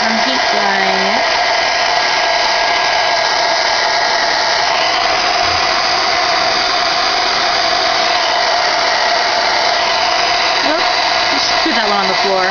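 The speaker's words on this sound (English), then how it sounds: "Okay, now quick heat gun again, and I'm going to squish as I'm heat gunning it." A heat gun blows steadily on a handmade craft embellishment being squished into shape, a close, loud, even whoosh with a constant whine that runs the whole time, a voice talking briefly over it.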